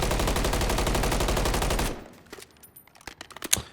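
Rapid automatic gunfire from a weapon recoil test in Call of Duty: Modern Warfare 3, a dense, loud burst of evenly spaced shots lasting about two seconds, then scattered fainter clicks and pops.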